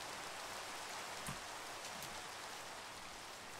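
Steady, dense patter of rain falling in the block-building game Minecraft, a constant hiss holding evenly throughout with no voices over it.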